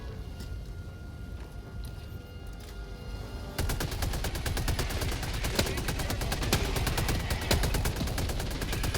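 Rapid, continuous automatic gunfire as cover fire in the video game Helldivers 2, starting moderate then becoming a loud, dense burst of rattling shots in the second half, with faint voices.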